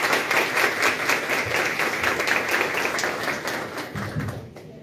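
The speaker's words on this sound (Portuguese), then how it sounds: "Sob os aplausos de vocês" Audience applause welcoming a speaker onto the stage at an innovation event, a dense, steady wash of many hands clapping that holds strong and close before thinning and stopping abruptly near the end.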